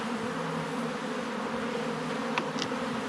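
Honey bees buzz in a dense, steady drone during a springtime beehive inspection, close and continuous, with a couple of faint clicks near the end.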